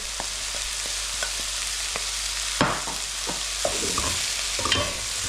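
Spices, salt and pepper being stirred into garlic and ginger frying in a pan for a lamb tagine, with a steady close sizzle and repeated scraping strokes of the spoon.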